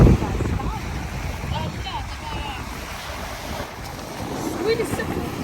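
Waves washing onto a cold, deserted beach at sunset with steady wind buffeting the microphone, a continuous broadband rush of surf throughout with faint voices in the background.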